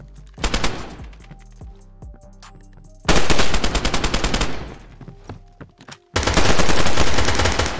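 Automatic gunfire in the video game DayZ, loud rapid bursts of shots in three long strings separated by brief gaps, close and dominant with little else audible.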